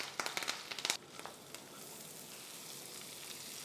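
Cabbage and curry leaves sauté in coconut oil with urad dal, red chilli and asafoetida, a loud stirring burst of sizzling and scraping at first that settles into a steady, softer fry.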